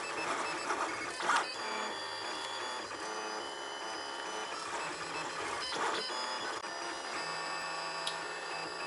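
A 3D printer steadily printing plastic brackets for a duck house, its stepper motors whining in continuous shifting tones with small clicks and brief louder bursts, close and alone without voices.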